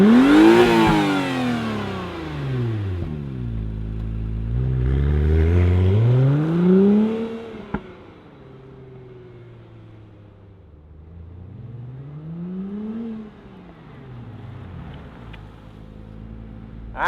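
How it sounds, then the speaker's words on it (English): A 2017 first-year second-generation Acura NSX supercar fires up and revs loudly close by, with rising and falling engine sweeps, then settles into a quieter idle before another rev swells and fades. "Let's fire up this NSX and hear what it sounds like."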